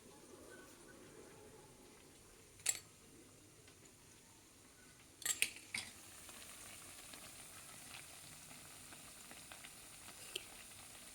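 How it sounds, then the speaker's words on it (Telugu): Maida and wheat biscuits frying one by one in hot oil, a quiet steady sizzle broken by a few sharp crackles and clicks as pieces go in or are turned. "ఇలా ఒక్కొక్కటి అన్నీ వేయించుకోవాలండి"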